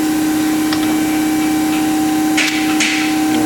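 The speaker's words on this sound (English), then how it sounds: "Again, we're going to use the impact gun." An air impact gun with a 13/16 socket works the front strut bolts on a 2006 Mustang GT, giving a loud steady whirring hum with two short rattling bursts near the end.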